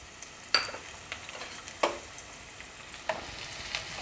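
Finely chopped onion frying in a pan with cinnamon for chicken kheema, a faint steady hiss broken by three sharp scraping stirs of a spoon against the pan, close and without talk.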